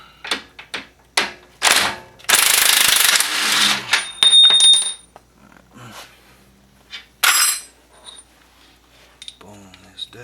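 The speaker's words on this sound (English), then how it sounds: "Actually, I think I'm gonna use a wrench for this." A wrench works bolts on the suspension of a 2005 Volvo XC90 during a lower control arm and axle shaft job: a series of sharp metallic clicks and rattling bursts, close by, separated by short pauses.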